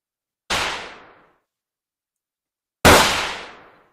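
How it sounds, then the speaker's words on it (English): Two loud gunshots ring out about two seconds apart, each a sharp crack that fades into a short echoing tail, with silence in between. "You hear the sound of gunshots go off."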